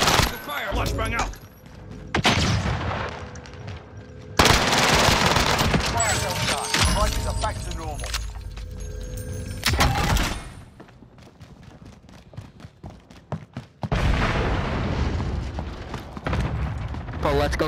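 First-person shooter match with a flashbang and bursts of automatic gunfire, loud and repeated in several dense volleys separated by brief lulls, alongside game radio voice callouts.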